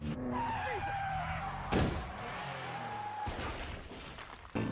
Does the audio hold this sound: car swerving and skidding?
yes